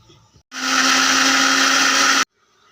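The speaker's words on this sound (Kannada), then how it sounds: "ಕಟ್ ಮಾಡಿರೋ ಹಸಿಶುಂಠಿ, ಬೆಳ್ಳುಳ್ಳಿ, ಕೊತ್ತಂಬರಿ ಇಷ್ಟನ್ನು ಹಾಕ್ಬಿಟ್ಟು ಮಿಕ್ಸಿ ಮಾಡ್ಕೋಬೇಕು." Kitchen mixer grinder whirring loud and steady for under two seconds as it blends chopped fresh ginger, garlic and coriander, starting and stopping abruptly.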